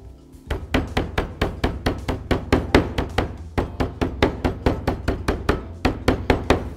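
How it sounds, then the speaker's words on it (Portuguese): A meat mallet pounds a pork chop held between two plastic films, landing about twenty loud, evenly spaced blunt thuds in a steady rhythm, close up, with no talking. "eu sempre bato ele entre 2 filmes, porque se eu bater com o martelo direto, a carne acaba rasgando"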